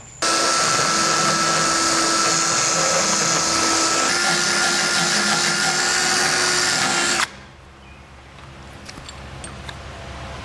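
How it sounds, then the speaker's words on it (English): A die grinder bit enlarging a hole in a Curt custom base plate kit on a 2020 Jeep Wrangler: a steady, loud high-pitched whine for about seven seconds, then it cuts off and leaves only faint background noise. "So I'm going to use a die grinder bit to open this up"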